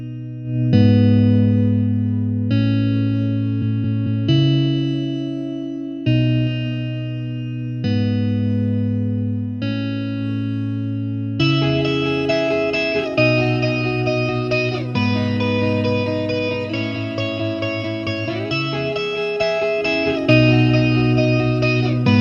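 Electric guitar chords ring out through a simulated Vulture A30 combo amp, struck every couple of seconds with sustain, then turning brighter and slightly gritty partway through.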